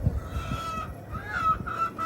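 Harsh, honking squawks from a chicken cut in repeatedly over a low rumbling background, fairly close and loud.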